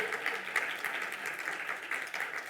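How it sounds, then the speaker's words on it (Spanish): Steady audience applause at an economics conference in Colombia, a dense continuous patter of many hands clapping for the full stretch at moderate, even loudness with no talk over it. "Un aplauso para él"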